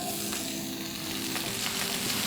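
Meat fries in a pot with onion, peppers and a little oil for a Chilean dish, a loud, steady, close crackling sizzle that runs on without pause and without voices.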